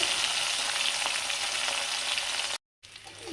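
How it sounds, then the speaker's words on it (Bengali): Cauliflower, carrot and potato pieces fry in hot oil for a winter vegetable dish, giving a close, steady, crackling sizzle that drops out abruptly near the end. No one speaks. "ফুলকপি, গাজর, আলুটা প্রথমে ভেজে হালকা ভেজে তারপর বিনসটা দেবো"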